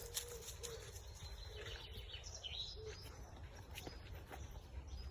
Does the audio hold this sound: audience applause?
no